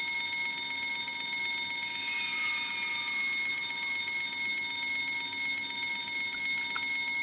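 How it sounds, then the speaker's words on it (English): Fire alarm ringing in the horror game Escape the Backrooms, a steady electronic bell-like ring with sustained tones running continuously over a constant background hum, no voices. "I'm going to hit the fire alarm to attract him over here"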